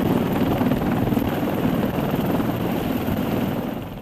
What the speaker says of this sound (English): This helicopter is powered by two General Electric turboshaft engines